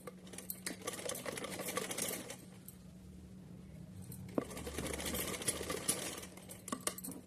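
A sewing machine stitches lace onto a cotton summer dress for a small doll in short bursts, with pauses between runs. It sounds close and fairly quiet, giving a fast, even mechanical patter with a few light clicks and handling noises.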